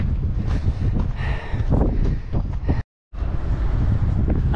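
Strong wind in Tarifa buffets the microphone in loud, rough gusts that roar and thump continuously, broken by a brief total dropout before the blustering resumes.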